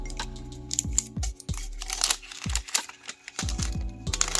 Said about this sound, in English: So let's go ahead and unwrap.